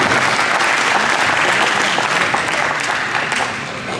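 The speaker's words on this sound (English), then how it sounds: "So first, we do a round of applause for this question" An audience at a club plaque presentation bursts into dense, sustained applause, a loud wash of many hands clapping at once that holds steady and then begins to fade near the end.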